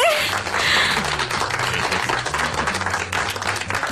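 Several people clap their hands together in a brisk, steady patter, close and loud, continuing without pause for a few seconds.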